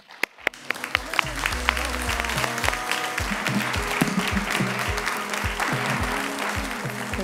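Conference hall audience applauding to welcome a keynote speaker on stage at an industrial engineering expo, dense sustained clapping from a large crowd that starts abruptly and holds steady.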